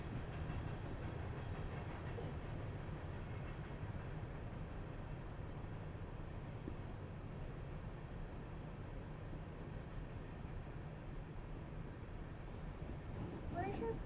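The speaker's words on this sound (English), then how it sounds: "I think there's another train." A train rumbles past at night as a steady, faint low roar with soft rhythmic clatter of rail cars, continuous throughout and fairly distant.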